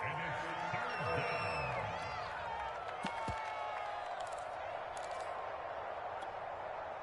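Stadium crowd noise from a PS4 football video game, a steady broad roar of cheering fans running throughout, with a commentator's voice talking over it.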